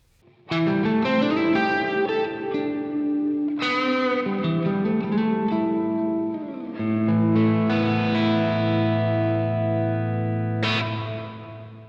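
Electric guitar chords ring out with reverb time at maximum, notes smearing together into a sustained wash before a last chord is struck.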